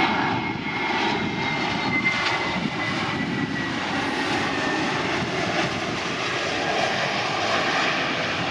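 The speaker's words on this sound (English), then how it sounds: "With a signature roar, the iconic Ryanair Boeing 737" Ryanair Boeing 737 jet at Lisbon Airport, a loud broad engine roar that holds steady throughout, dense and sustained with no talking.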